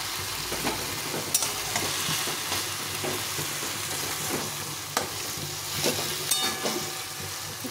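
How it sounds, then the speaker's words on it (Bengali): Hilsa fish and taro leaves fry in oil in a pan, a soft continuous sizzle broken by scraping stirs and sharp clinks of a utensil against the pan, close up with no talking. "মাছ দিয়ে শাকটাকে ভালো করে সুন্দরভাবে কষিয়ে নিতে হবে।"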